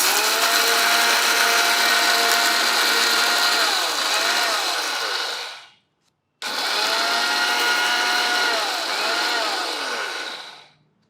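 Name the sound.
mixer grinder grinding lentils for chutney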